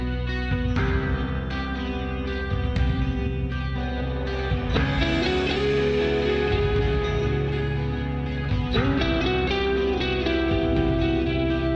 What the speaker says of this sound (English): the reverb sounds really cool